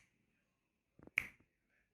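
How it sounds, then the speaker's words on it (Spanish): A single sharp finger snap rings out close to the microphone beside a homemade decibel-meter sensor, preceded by a few faint soft clicks, then quiet. "si es que yo hago un chasquido con mis dedos"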